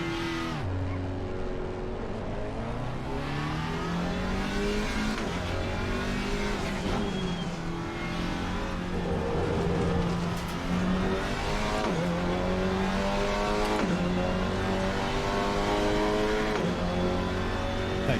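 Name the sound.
GT4 race car engine and gear shifts in Assetto Corsa Competizione video game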